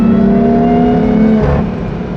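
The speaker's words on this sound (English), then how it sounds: "The sounds are super intoxicating, especially that rear diff whine." A BMW M3 drives past a national forest, its engine loud and close with a steady high rear differential whine that drops in pitch as the car eases off.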